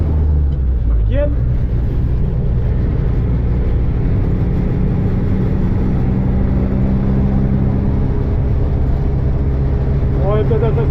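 A Mercedes 406D van fitted with a swapped 90 hp engine cruises in fifth gear at about 60 to 70 km/h, giving a loud, steady cabin drone and road rumble while someone talks over it.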